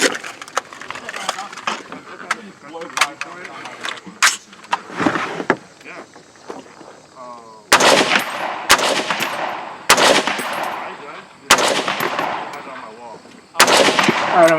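Rifle and pistol shots ring out at a two-gun match, sharp loud cracks at uneven intervals, with several heavy close reports in the second half and voices talking between them.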